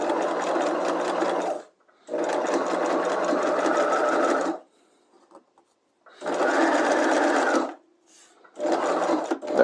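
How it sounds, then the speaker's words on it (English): A sewing machine stitches a fly front zipper with back tacks at the start and end, running in four close, steady bursts separated by short pauses. "I'm just going to stitch for about just a few inches"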